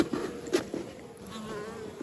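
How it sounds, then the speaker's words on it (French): Honeybees buzz around a hive entrance in a steady, droning hum with a few louder close passes, no voices present. "les abeilles elles rentrent par là"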